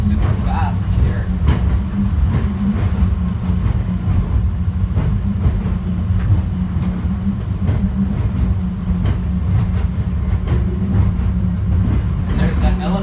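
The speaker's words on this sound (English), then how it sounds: "I like how this train goes super fast here." A subway train heading to the airport terminals runs fast, giving a loud continuous low rumble and rattle throughout, with someone talking over it.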